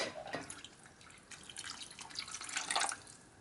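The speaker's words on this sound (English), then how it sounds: "Add a 1/4 cup more water in" Water poured into a pot of home-cooked Jamaican chicken soup, a light splashing and dripping trickle that rises and falls over a few seconds, with a brief louder pour near the end and no talking.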